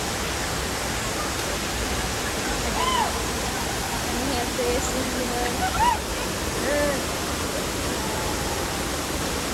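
A constant roar of rushing water from Devkund Waterfall at Bhira fills the scene, with a person speaking briefly over it.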